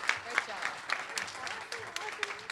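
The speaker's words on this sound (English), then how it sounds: "So can we get an extra big round of applause for Allie, our first spotlight speaker?" An audience applauds a spotlight speaker at a Girls Club event: steady, moderately loud clapping throughout, with a voice talking over it.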